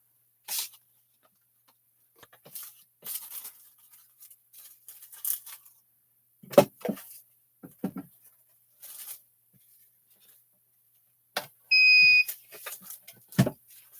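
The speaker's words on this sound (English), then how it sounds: "Beep means run me through the machine." A Gemini FoilPress foiling machine gives a short, clear electronic beep near the end, alone among scattered handling noises and rustles in a quiet room.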